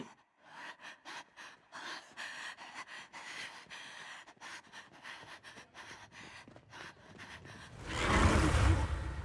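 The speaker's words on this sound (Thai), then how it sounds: "เสียงใครหายใจวะ" Heavy, rhythmic panting breaths pulse repeatedly in Monster Hunter Wilds, close and gasping, then a loud rush of noise swells at the end.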